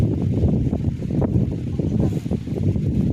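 Gusty wind blows steadily across the microphone, a low, rumbling roar with rustling throughout and no other clear sounds.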